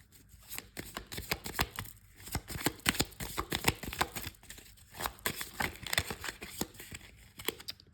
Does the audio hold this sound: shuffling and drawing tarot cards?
yes